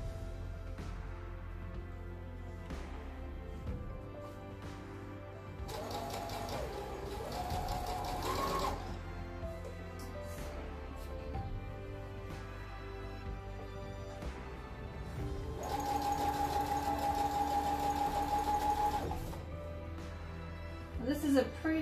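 Serger sewing extra thread into flag fabric for angel wing flags, with bursts of motor whirring that start and stop several times and longer stretches of steady stitching, moderately near.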